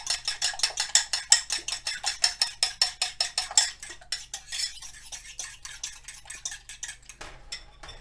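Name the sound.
whisking meatloaf ingredients in a bowl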